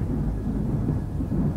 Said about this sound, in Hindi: बाहर तेज तूफान की आवाज आ रही थी